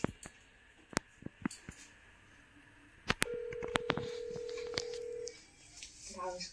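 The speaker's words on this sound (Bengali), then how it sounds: "ফোনটা ধরলে রিং হচ্ছে।" On a phone call, a few sharp clicks are followed by a single steady ringing tone lasting about two seconds, then a brief voice answers at the end.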